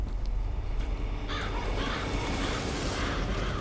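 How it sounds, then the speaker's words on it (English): Crows caw in a dark Bloodborne game scene, several harsh calls ringing out over a steady low ambient drone, fairly loud, with no voices. "We're gonna get a nice sort of a scene with the crows."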